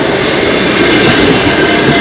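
Train wagons roll past close by in a loud, continuous rumble and roar of wheels on rails, with no voices.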